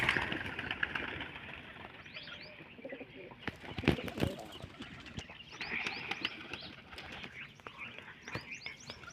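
Several loft pigeons coo repeatedly in soft, rolling calls, close and overlapping, mixed with chirps and occasional shuffling over a low background hum.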